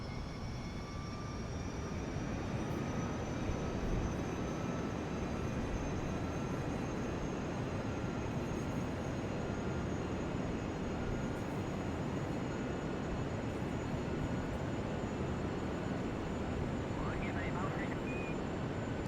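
A jet aircraft in Kerbal Space Program throttles up to go supersonic: a steady, dense engine roar with a high whine holds loud and unbroken throughout.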